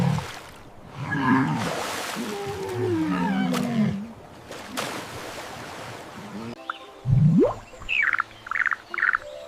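Walrus calling with a string of loud, drawn-out groans, bellows and whistling tones, then a rising cry and several short, bright bursts near the end, all close and with no talk.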